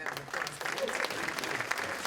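Audience applause fills a banquet room at a county Democratic Party annual unity dinner, a steady, dense clatter of many hands clapping together for just over two seconds with no speech over it.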